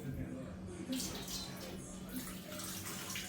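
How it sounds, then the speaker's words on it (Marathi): Water pours steadily into a pressure cooker holding Indrayani rice in a home kitchen, a continuous splashing stream lasting the whole stretch, with a voice faintly present beneath it. "तर थोडंसं जे पाणी आहे तर मी ते घालणार आहे त्यामध्ये"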